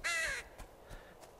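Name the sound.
crow cawing in the video game Betrayer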